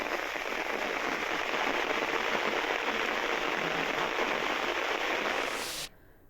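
Heavy rain pours steadily in Tehri, a dense continuous hiss of water drumming on surfaces that holds for several seconds before cutting off abruptly near the end.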